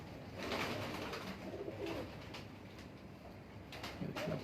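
A bred show pigeon coos softly in a loft, low gentle calls repeating under faint background noise, with no one speaking.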